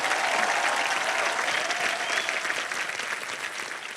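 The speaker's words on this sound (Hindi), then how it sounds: "तो जोरदार डबल तालियां।" A studio audience on the Wheel of Fortune game show gives loud, dense applause that holds strong and then tapers slightly across four seconds, with a crowd murmur underneath.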